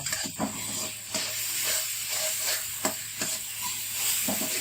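Ginger garlic paste frying with browned onions and tomatoes in a pan for a South Indian potato thokku: a constant soft sizzle and hiss, punctuated by several scraping stirs at irregular intervals, moderately quiet.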